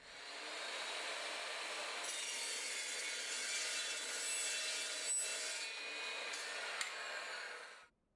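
A Morse Metal Devil 14-inch metal-cutting saw slices through threaded all-thread rod, a steady, loud, continuous whine and grinding rasp that holds for about eight seconds before cutting off abruptly.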